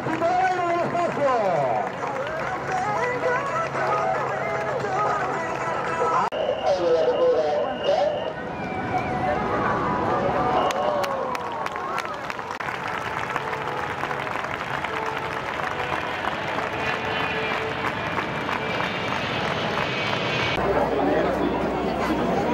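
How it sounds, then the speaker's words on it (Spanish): A crowd applauding the Patrulla Águila aerobatic display over Las Palmas de Gran Canaria, sustained clapping and chatter spread through an outdoor audience, with a voice speaking over it at times. "Un fuertísimo aplauso para estos ases de la aviación y del Ejército Aéreo del Espacio"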